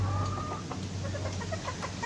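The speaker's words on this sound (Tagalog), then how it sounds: "quick update lang sa ating mga manok guys" Hens cluck softly and intermittently close by, over a low, steady hum.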